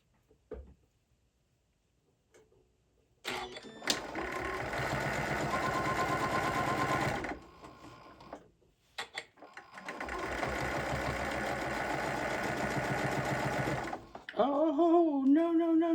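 Sewing machine stitching a 3/8 inch seam on a zipper bag, two long steady runs of fast, even mechanical whirring, close and loud, separated by a brief stop, with a short whine at the end.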